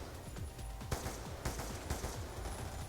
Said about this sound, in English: I just shot someone through the wall